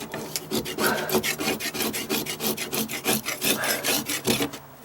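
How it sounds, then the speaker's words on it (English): Fungus being scraped off dry-rotted wood, a rhythmic series of close, harsh rasping strokes repeating roughly several times per second. "I'm gonna end up scraping all this stuff off the best I can and wiping it down."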